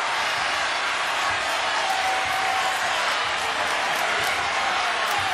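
A basketball arena crowd at a MEAC college game between North Carolina A&T and NC Central cheers and applauds in a loud, continuous wash of clapping and shouts that fills the whole stretch.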